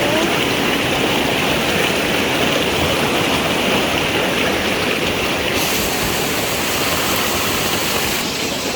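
Strong floodwater surging in a loud, continuous roar, steady and close throughout with no pauses or voices.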